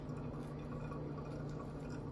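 Hot water poured in stages over coffee grounds, heard as a quiet, steady stream with gentle dripping and trickling up close, with no voices.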